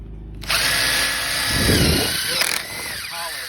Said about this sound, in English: and you clamp it on with that C-clamp, and then you put your drill in here.